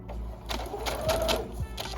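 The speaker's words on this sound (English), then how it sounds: "now I am going to use a zigzag stitch to finish off the rest of this" A sewing machine runs a zigzag stitch on lace fabric in a steady, close, whirring hum with a rhythmic needle clatter, with no speech.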